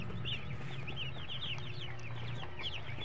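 Young chicks peeping in a brooder during feeding, many rapid high chirps overlapping continuously at close range, with a steady low hum underneath and no talking.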